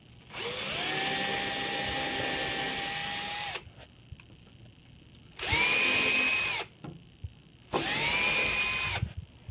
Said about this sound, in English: take my pilot holes, the 5/64 bit, and just drill 2 pilot holes